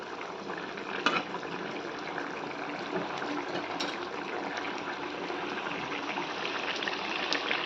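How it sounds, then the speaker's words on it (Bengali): Fish curry boils in a pot, giving a steady, dense bubbling and hissing that carries on evenly throughout with no voices. "মাছও দিয়ে দিয়েছে এখন ঝোলটা হচ্ছে ফুটছে"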